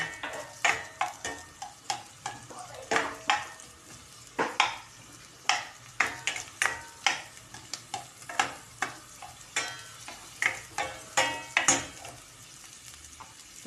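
Cubed onions frying in a pan, stirred in a steady run of scraping, clinking strokes over a continuous sizzle, close and fairly loud with no talking.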